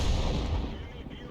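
The main gun of an Object 261 fires in a tank video game, a single deep booming blast with a rumbling tail that decays over about a second, loud and close.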